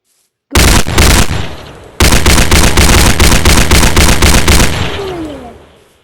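Rapid bursts of video game gunfire, a short volley of several shots, a pause, then a longer rattling string of loud shots that fades into a decaying echo, with no voices.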